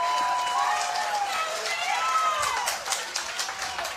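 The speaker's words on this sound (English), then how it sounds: "Carolina crowd into it." A crowd at an NCAA tournament baseball game between Iowa and North Carolina, a steady roar of cheering and noise filling the ballpark, with whistles and shouts rising over it throughout.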